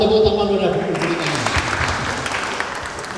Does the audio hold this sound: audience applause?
yes